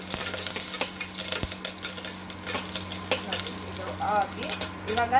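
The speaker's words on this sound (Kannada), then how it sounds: "ಒಣಮೆಣಸಿನ್ಕಾಯಿ ಕರಿಬೇವು ಒಂದಿಷ್ಟು ಕರಿಬೇವು ಹಾಕಿ ಒಗ್ಗರಣೆ ಮಾಡ್ತೀನಿ" Dried red chillies and curry leaves crackle in hot oil for a tempering, a moderate sizzle with sharp pops and a few clinks of a pan or spoon, close by.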